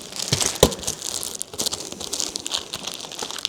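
Crinkling and tearing as a magnetic door piece is pulled and ripped off, with a sharp crunch early on and irregular crackly rustles continuing close by.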